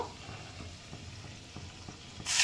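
Hing, ginger, green and red chillies and onion sauté in hot oil, a faint continuous sizzle with soft stirring scrapes, ending in a sudden louder hiss.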